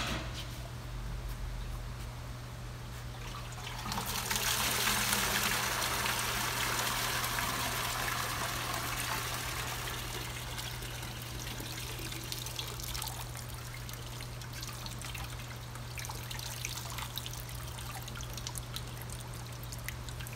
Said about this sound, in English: I'm gonna pour this water out into the bucket and check out how long it takes for that water to all get out of there